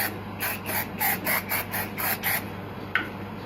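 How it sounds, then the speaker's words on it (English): Eight short, even bursts of an aerosol shimmer spray hiss in quick succession, followed by a small click. "We're going to use some shimmer spray."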